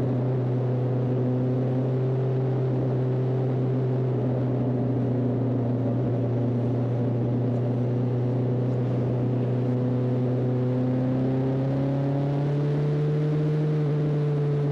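A Honda CB 1300 Super Four motorcycle drones steadily while being ridden, its engine hum close and constant, with the pitch rising slightly near the end under rushing wind noise.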